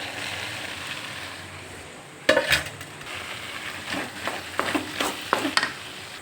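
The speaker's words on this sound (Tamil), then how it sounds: "அடுத்து நம்ம வச்சுருக்க இந்த காயவும் தூக்கி நல்லா போட்டு கிளற போகிறேன்" Vegetables being stirred into millet noodles in a pan, with a soft sizzle, a sudden clatter as they drop in, then repeated scraping and tapping strokes of a utensil against the pan, close and without talk.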